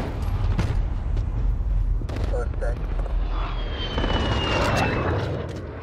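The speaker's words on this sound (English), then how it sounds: "Friendly VTOL on station for overwatch." Low roaring engine rumble of a VTOL aircraft passing overhead in a Modern Warfare match, loud and sustained, with gunfire cracks and a voice callout mixed in.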